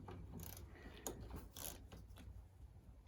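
A ratchet loosens T30 Torx screws on the fuel filter of a VW Jetta TDI diesel, giving faint, quick clicking bursts in short spaced runs against low background rumble.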